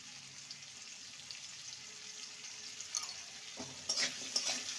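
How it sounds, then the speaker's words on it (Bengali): Potatoes with turmeric and salt fry in a pan for a spicy pumpkin and potato dish, a faint steady sizzle that turns louder with a few clinks near the end. "আলুটাকে লাল করে ভেজে নেব।"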